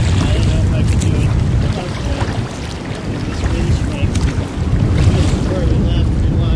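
Strong gusty wind of about 20 to 27 knots roars across the microphone aboard a sailboat running downwind, with water rushing past the hull; the buffeting is loud and continuous and almost covers a voice.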